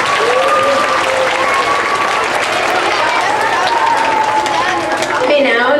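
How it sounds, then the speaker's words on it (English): Students and teachers at a school assembly give a round of applause, a loud, sustained patter of many hands, with a few voices calling out over the clapping. "Give her a round of applause."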